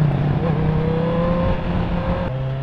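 A motorcycle engine is held at high revs above 6,000 RPM, producing a loud, steady, droning roar with a slowly shifting pitch that continues throughout, close to the bike.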